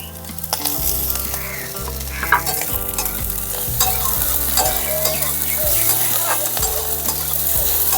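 Chopped tomato sizzling in a hot pan with frequent scraping strokes of a spatula, a close, constant fry with stirring over soft background music.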